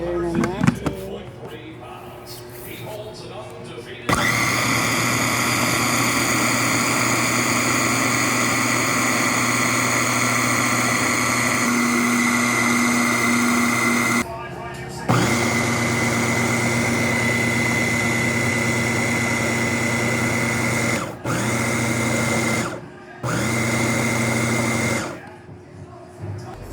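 Small kitchen grinder blitzing chopped vegetables for homemade kimchi, a steady loud motor whine that runs in several long bursts with brief stops between them, starting and cutting off abruptly.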